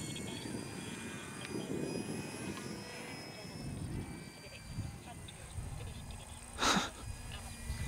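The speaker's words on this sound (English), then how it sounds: "Look how it climbs, look. Of course, it's a 3D plane." An electric Eratix 3D FF flat-foam RC airplane, 860mm wingspan, flies overhead with a faint steady motor whine under background noise, with a brief louder burst near the end; people talk nearby.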